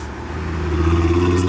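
A modified Volkswagen Golf revs at a car meet, a steady mid-range engine drone rising slightly in loudness over a second and a half, with no clear separate bangs standing out.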